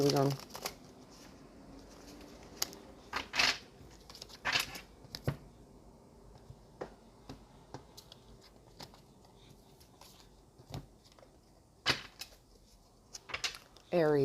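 Tarot cards being shuffled, flicked and laid down in quick bursts of riffling and snapping, with a person talking briefly between the handling.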